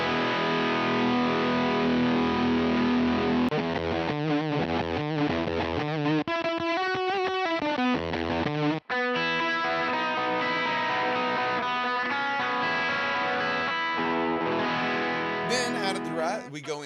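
Electric guitar played through a Rat distortion pedal in a hybrid rig, loud gritty overdriven riffs and sustained chords with fast picked runs in the middle, continuous and close.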